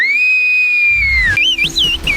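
Whistled language from a Turkish village: a long sustained whistled tone glides and then breaks into quick rising and falling whistled phrases, loud and close, with some rumbling background noise underneath.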